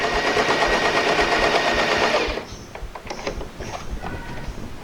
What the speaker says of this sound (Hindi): ये आपकी मशीन बिल्कुल कच्ची सिलाई देगी